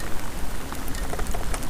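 Heavy rain pours down on an open highland plateau where a newborn calf lies, a dense, steady hiss of drops with no voices over it.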